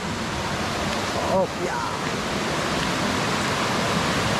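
Stream water flowing in a forest setting, a steady close rushing wash throughout, with a short spoken exclamation partway through.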